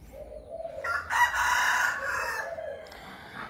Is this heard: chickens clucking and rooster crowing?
yes